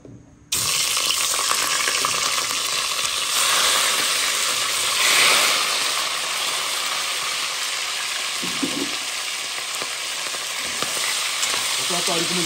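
Smoked pork hisses and crackles as it fries in hot oil, making a loud, continuous sizzle that swells slightly at times and runs steadily throughout, with no talking.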